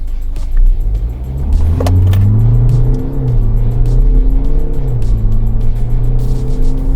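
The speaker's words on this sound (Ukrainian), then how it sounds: "Коробку в спорт, ресетаємо значення і пробуємо квотер." A car launches hard on a quarter-mile acceleration run with the gearbox in sport mode, its engine roaring loud and close as the pitch climbs through the gears.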